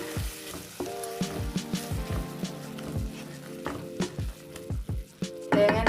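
Grated coconut frying in oil in a pan for a spicy homestyle egg curry, a steady close sizzle with repeated scraping and stirring knocks.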